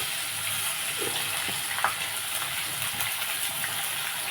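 Chopped onions and green chillies sizzle in hot oil with a steady, hissing, watery crackle, loud and continuous with a few brief spatters.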